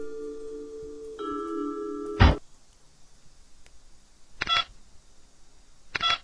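A phone emits steady dialing tones after the call button is pressed, followed by a sharp click and two short bursts of beeping tones, clear and close with no talking.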